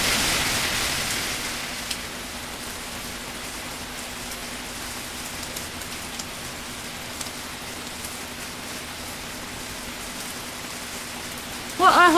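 Steady rain falls outdoors among trees where hummingbirds feed, a continuous soft hiss throughout, with a brief louder burst and a few tonal chirps at the very end.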